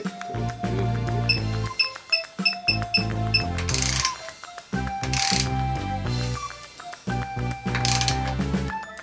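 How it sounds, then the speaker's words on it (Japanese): A torque wrench tightening bolts on a Bianchi Fenice Pro flat-bar road bike to a 12–14 spec makes rhythmic ratcheting clicks and metallic taps under steady background music. "トルクレンチで締めていきます"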